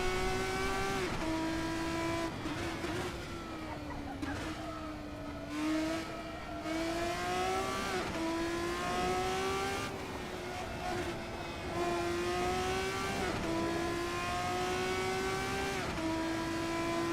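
DTM race car engine in Assetto Corsa, heard fairly faintly: a steady engine note climbs in pitch and drops at each gear change, with repeated upshifts throughout.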